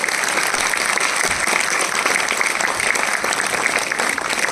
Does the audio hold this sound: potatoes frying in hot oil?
no